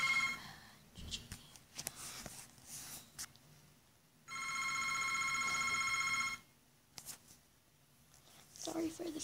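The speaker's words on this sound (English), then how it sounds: "Sorry for the phone in the background." A telephone rings in the background during a card-opening game session, one steady two-second burst of ringing in the middle, with someone speaking in short bursts before and after it.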